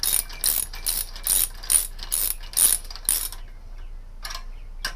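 A ratchet snugs down bolts on a supercharger pulley of a 144 supercharged small block Chevy, with quick rhythmic clicking bursts repeated about eight times, close and clear, then a pause and a last short burst.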